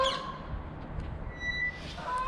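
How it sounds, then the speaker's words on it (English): Geese on the move near a Dutch barge home give a few brief, fairly faint honks over a soft, steady outdoor background. "And also the geese are on the move, as you can probably hear."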